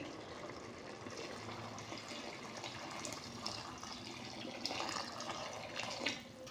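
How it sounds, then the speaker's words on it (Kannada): Water poured from a glass into a pot of rice for chickpea pulao, a soft continuous splashing trickle with slight surges near the end, close by and alone. "ನಾನು 3 ಗ್ಲಾಸ್ ಅಕ್ಕಿಗೆ 6 ಗ್ಲಾಸ್ ನೀರು ಹಾಕೋತಾ ಇದ್ದೀನಿ ಫ್ರೆಂಡ್ಸ್"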